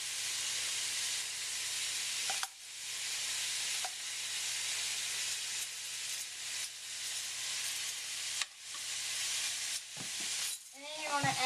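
Lasagna sauce simmering in a pot after minced garlic is added, a quiet steady sizzle and hiss with a few brief stirring scrapes and clinks, and small gaps where the sound drops out.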